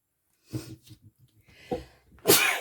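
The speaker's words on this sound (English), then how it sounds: "Sneezing away" A single loud, sharp sneeze bursts out near the end, preceded by a few quieter breathy sniffs and small noises.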